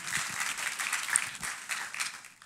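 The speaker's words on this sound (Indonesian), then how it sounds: "tepuk tangannya boleh yang paling meriah buat Tuhan kita" Dense applause from a church congregation during a sermon, a continuous patter of many hands clapping at moderate volume, heard from a little distance.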